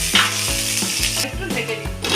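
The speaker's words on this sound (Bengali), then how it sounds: "আমি ঢাকনাটা খুলে একটু নেড়ে দিই" Onions fry with salt and chili powder in a pan and are stirred with quick, regular strokes. A close, steady sizzle is broken by rhythmic scraping about twice a second.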